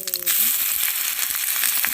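Garlic frying in sesame oil for Korean seaweed soup gives a close, crackling sizzle with sharp pops and spatter. A brief voice is heard at the very start.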